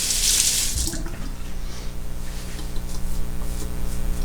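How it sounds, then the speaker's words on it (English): Tap water runs steadily and loudly into a sink as a Feather Japanese razor is rinsed mid-shave, with a bright splashing burst at the start before settling into a continuous close gush. "And I'll rinse that."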